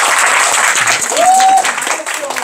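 A burst of applause is dropped in as a sound effect, loud and brief, with a short whistle-like tone sliding through the middle of it.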